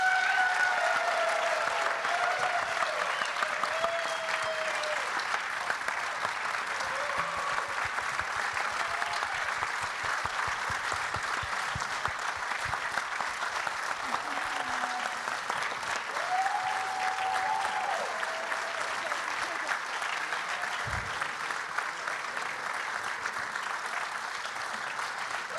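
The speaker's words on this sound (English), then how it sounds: "Please give them a round of applause." A large gala audience at a media technology summit applauds at length, a broad, even roar of clapping held at a steady level. A few faint tonal squeaks and a soft thump rise briefly above it.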